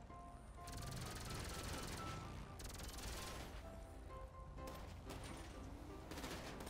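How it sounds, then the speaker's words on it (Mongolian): Gunfire in GTA V, a steady clattering burst of shots that runs through most of the stretch, broken by short gaps, loud against busy game noise with no talk. "Үе энэ юм хөөрхөн буу чад чад гэдэг."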